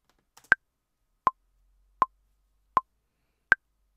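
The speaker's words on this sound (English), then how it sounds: "with the internal clock of Logic, which is called the metronome, or some people call it the click" Logic's built-in metronome clicking at a slow 80 beats per minute: five crisp, isolated ticks evenly spaced in silence, the first and last pitched slightly higher as accented downbeats.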